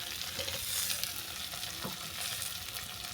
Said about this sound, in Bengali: আলু আর কচু ভালো করে ভেজে নেওয়ার পর দিয়ে দেবো কুচানো টমেটো